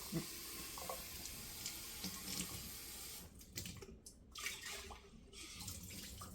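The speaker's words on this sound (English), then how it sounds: "We're going to let the water run out as much as possible." Rinse water pours and drains steadily out of a jar of sprouting broccoli seeds in a kitchen, a continuous close splashing flow that thins and breaks up toward the end.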